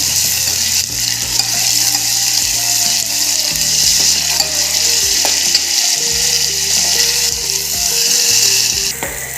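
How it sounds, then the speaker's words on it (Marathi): Ground masala paste (vatan) sautéed in a pan with browned onions for a village-style fish fry: continuous loud oil sizzle with spoon stirring and scraping, close up, while steady background tones run underneath and no one talks. "यामध्ये आपण 2 चमचे वाटण घालणार आहे. वाटण चांगलं परतून घ्यायचं आपल्याला."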